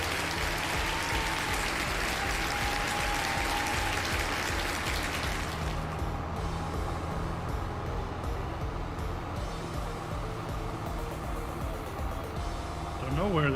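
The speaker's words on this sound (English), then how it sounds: "Big old round of applause to Lancer." Steady applause and cheering fill the clip, fading to a softer crackling wash partway through, in Farming Simulator 22.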